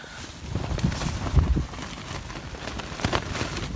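Steady rain patters on a nearby tent, a dense, soft hiss with scattered heavier drops and a few dull knocks.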